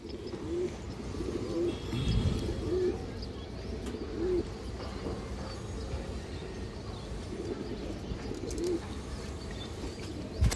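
Large big-headed pigeons coo in low, repeated calls at regular intervals over a steady background hum, close but fairly soft.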